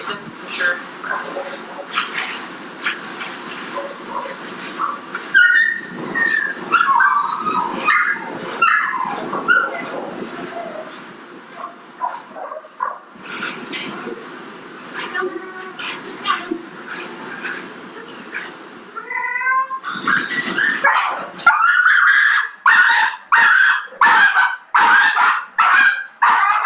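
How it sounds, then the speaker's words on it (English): A dog screams, yelps and whimpers during a staged dog fight against a fake dog. Its cries come in loud, irregular bursts, ending in a rapid run of sharp, repeated yelps. "That dog kept screaming until the fake dog was out of sight."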